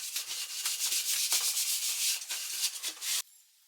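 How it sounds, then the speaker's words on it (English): Quick hand sanding over dry primer on a bedside table, a steady, close, dense scratchy rubbing with short rhythmic strokes for about three seconds before stopping abruptly. "The primer is now dry, so I'm going to give it a really quick sand to smooth it all out"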